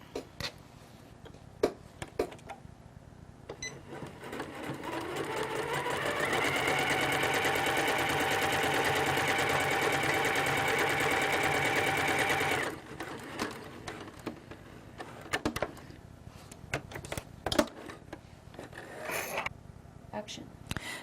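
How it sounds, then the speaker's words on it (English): Sewing machine stitching a single row along the bottom line of interfacing on a jacket, a steady mechanical whirring run of about eight seconds that starts and stops cleanly, with light handling clicks before and after. "I'm going to do a row of stitching right on the bottom line on my interfacing"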